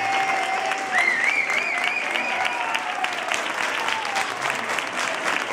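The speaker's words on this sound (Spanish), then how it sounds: "yo quiero que demos todos un fuerte aplauso a Broches" Audience applause at an award event, a dense continuous clapping that holds steady throughout, with a faint whistle or tone rising above it early on.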